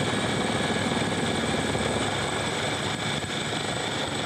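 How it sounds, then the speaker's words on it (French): Rescue helicopters fly over the Southern Ocean after the capsizing of the Groupama 3 trimaran, a loud steady rotor and engine roar that stays constant throughout with no voices. "Quelques heures seulement après le chavirage, quatre hélicoptères se relaient pour récupérer les 10 marins de Groupama 3."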